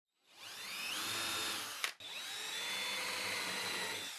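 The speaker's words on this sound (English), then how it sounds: "then I drilled some holes with these new countersinks I got" A power drill with a countersink bit bores into Baltic birch plywood, a steady high whine that briefly cuts out and restarts, close and fairly loud with no voices.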